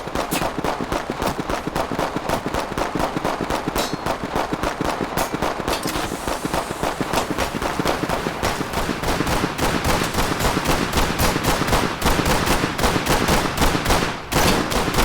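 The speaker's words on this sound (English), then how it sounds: "Void has also updated how gunshots look and sound" Gunfire in the tactical shooter game Ready Or Not: dense, rapid automatic bursts crack nonstop, loud and close, with sharp reports and echoing tails blending into a continuous barrage, no voices.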